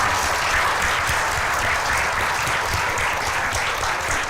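A seated audience breaks into steady, full applause at a ceremony honoring an IAS exam topper, dense and even from start to finish, with no voices over it.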